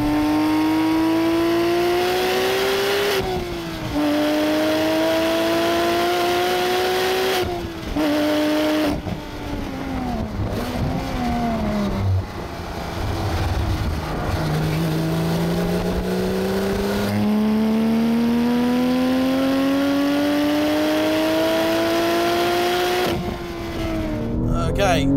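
Porsche 911 997 GT3 with a manual gearbox lapping a race track, its engine loud and close as it revs up steadily, drops sharply at gear changes and climbs again, with a voice talking over it.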